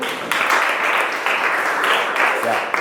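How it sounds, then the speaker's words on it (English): A primary school class clapping for a pupil, a loud, steady burst of many small hands applauding together in a classroom, with brief surges in intensity. "May you clap for him?"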